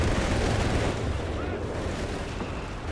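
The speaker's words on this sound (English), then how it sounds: "we got a machine gun duel here" Machine gun fire in Company of Heroes 3 during a battle between British and German forces, a dense, rumbling barrage of rapid shots and low booms, continuous and loud throughout.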